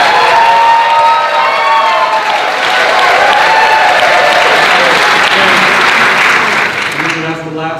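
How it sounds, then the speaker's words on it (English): A gubernatorial debate crowd applauds and cheers loudly in a dense sustained roar with whoops on top, fading near the end as a voice starts speaking. "That's the last cheer for a while."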